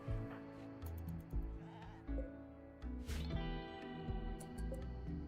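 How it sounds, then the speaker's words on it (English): Sheep in a video game bleat several times in a row, close and fairly loud, with the calls overlapping against a soft background score. "I'm surprised these sheep have been fine."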